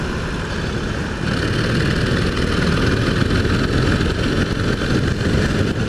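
A2-class motorcycle engine droning steadily while riding along country lanes on a sunny day, a continuous low rumble with wind noise, loud and close throughout without talk.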